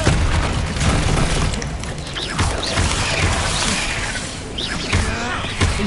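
Dense crashing and booming bursts from spellcasting in the Hogwarts Legacy video game, with repeated impacts and shattering hits layered over a noisy battle backdrop, fairly loud and continuous throughout.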